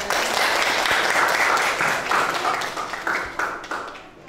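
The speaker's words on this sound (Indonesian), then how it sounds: "beri tepuk tangan untuk kelompok 5 dan 2" Classroom applause for student groups 5 and 2 after their presentation, a loud burst of many students clapping that thins and fades toward the end, with a few scattered taps.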